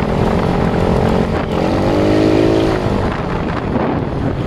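A Rusi Royal motorcycle with a GY6 engine upgraded from 125 to 150cc and a 59 big-valve setup revs steadily, its engine note rising and holding in a loud, close drone with some wind noise.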